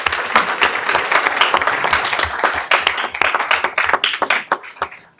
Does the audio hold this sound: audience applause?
yes